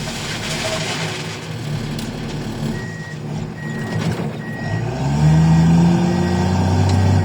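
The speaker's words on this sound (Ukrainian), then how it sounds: "Вікна відкриті, погрузчику шумом, мотор гуде." A loader engine hums steadily with open windows while a reversing alarm repeats short evenly spaced beeps, the engine growing louder and deeper toward the end as it works nearby.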